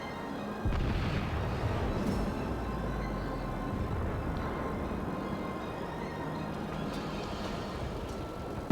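Warship guns boom in a naval video game as the battleship New Mexico fires, heard as a continuous heavy rumble of artillery that starts abruptly and rolls on steadily without pause.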